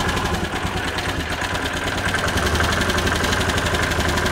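Bennche 500 UTV engine idling steadily up close, a loud even mechanical rumble with a rapid ticking pulse that could point to an exhaust leak, with no talk.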